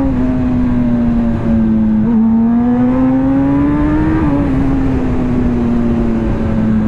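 A Kawasaki ZX10RR superbike ridden through traffic, its engine holding a loud, steady drone close up that rises slightly in pitch, dips, then settles, with wind rush and no talking.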